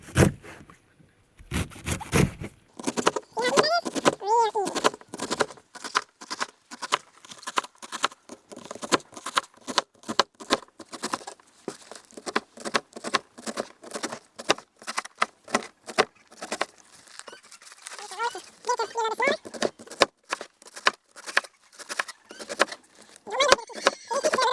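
Callaloo leaves are cut by hand in quick, steady, crisp strokes that repeat close by for the whole stretch, with a voice breaking in now and then.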